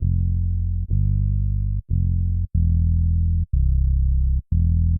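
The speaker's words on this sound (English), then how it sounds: "So it's a real round sounding bass" Deep, round, smooth bass notes played in a steady sequence, each sustained note briefly cut off before the next, with no other instruments.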